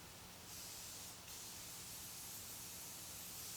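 Spray adhesive hisses from an aerosol can onto an ATV seat pan, a steady close hiss broken by a brief pause around the one-second mark, then continuing to the end.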